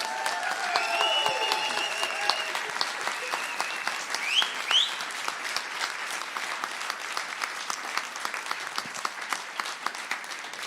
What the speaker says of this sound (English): if we could just give a huge round of applause for Cory